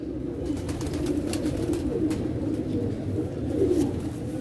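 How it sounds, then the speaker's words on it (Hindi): Pigeons cooing steadily nearby, a low rolling murmur that carries on throughout, with faint wing or feather rustles and no talking. "यह कबूतर देखो"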